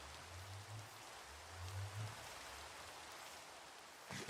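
Steady rain falls in a Minecraft world running the ATM 10 modpack, a soft continuous hiss of drops throughout with low rumbling patches early on and a brief bump at the very end.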